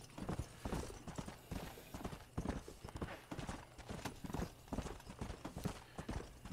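Horse hooves gallop in a steady, rapid clip-clop rhythm in the Western video game Red Dead Redemption, loud and continuous over a low background hum throughout.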